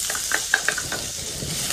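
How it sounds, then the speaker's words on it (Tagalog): Garlic sautéing in hot oil in a pan, a soft close sizzle with a few light stirring clicks and scrapes over a brief moment. "Saute lang natin hanggang sa mag-slightly brown yung ating bawang."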